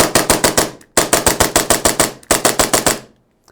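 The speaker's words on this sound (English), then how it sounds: "we'll give it a quick test shot" Novritsch SSP5 airsoft pistol firing test shots, three quick rapid strings of sharp, snappy clacks, each run of about five to six shots separated by brief pauses, loud and close with no talk.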